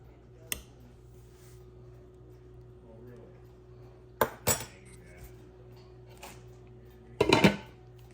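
A slotted spoon scooping crockpot-cooked black beans, with a few sharp metallic clinks and scrapes against the pot, scattered and close over a quiet background.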